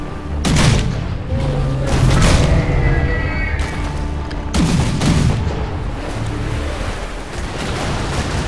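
Several loud, sharp gunshot bursts crack out in the game Risen 3, with booming impacts and a rumbling background between the shots.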